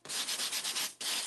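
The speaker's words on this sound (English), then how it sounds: "You're just going to gently sand it out." Sandpaper rubbed by hand over a dried painted patio cushion, making a close, steady run of about six rhythmic back-and-forth scrubbing strokes, a short pause, then another stroke, with no talking.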